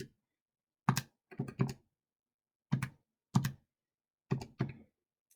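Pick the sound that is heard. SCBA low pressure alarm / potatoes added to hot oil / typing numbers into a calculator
typing numbers into a calculator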